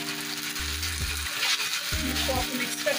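Spaghetti with chicken sizzling and being stirred in a pan, a steady frying hiss broken by two short, low scraping stirs; no one talks.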